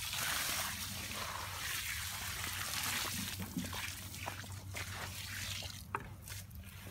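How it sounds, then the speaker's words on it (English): A thick morel mushroom slurry mixture trickles and gurgles steadily as it is poured into mulch, with faint sloshing and a few soft drips toward the end, close by and fairly quiet. "when you pour the slurry mixture into the mulch, the water gets it"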